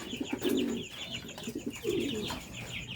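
A racing pigeon at a derby loft coos close by in two throaty, rolling bursts, with faint chirps and background noise between them.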